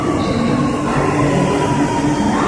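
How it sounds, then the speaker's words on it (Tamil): A metro train passes with a loud, continuous rumble and rushing roar, steady throughout with no voices. "அந்த சொல்யூஷன் தான் நண்பர்களே மெட்ரோ ரயில் சிஸ்டம்."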